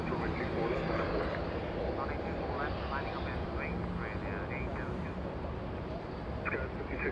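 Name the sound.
Korean Air Boeing 777 jet departing runway 24 left at LAX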